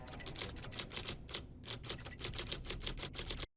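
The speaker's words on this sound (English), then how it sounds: "And the typewriter." Typewriter keys clack in a rapid, steady stream of sharp strikes, with one brief pause midway, in a scene from a TV episode, close and fairly quiet, ending abruptly.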